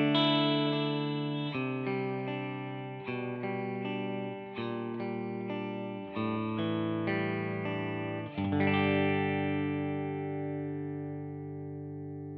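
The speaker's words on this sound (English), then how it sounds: "let's have a quick listen to the tone of the guitar with this in bypass" Clean electric guitar with a Tubesteader Magnezium dual tube preamp pedal in bypass plays a sequence of sustained chords, each struck clearly and left ringing, with a final chord that fades out slowly.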